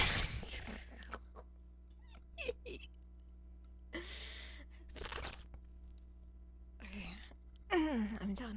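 A human voice imitates a cat, giving several separate meow-like calls with quiet gaps and whispery breaths between them over a faint steady hum.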